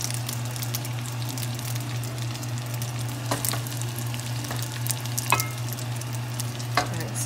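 Haluski sizzles steadily in a hot pan with the heat switched off, a close, continuous frying hiss broken by a few sharp scraping stirs of a utensil.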